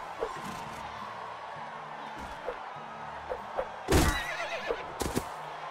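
A horse in the video game Mount & Blade: Warband whinnies over a steady bed of battle noise and distant crowd, with a sharper loud burst near the end.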